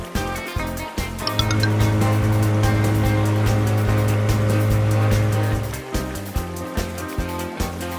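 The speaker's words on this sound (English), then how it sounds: "Ferry." An animated cartoon ferry boat on the water sounds a long, low, steady horn blast lasting several seconds, set over bouncy background music with a rhythmic beat.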